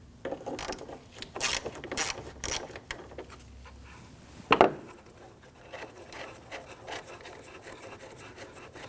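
A ratchet backing out 8mm screws at the top of the engine bay of a 2010-2019 Ford Taurus 3.5L V6, with quick bursts of clicking, metallic rubbing and one sharper clank midway, fairly quiet and close.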